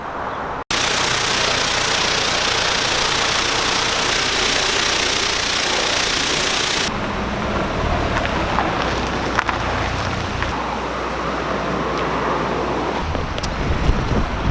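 A dark green Lamborghini LM idling somewhere in Utah: a steady, loud engine rumble under broadband wind-like noise that eases partway through while the low idle carries on, with a few faint knocks and clicks.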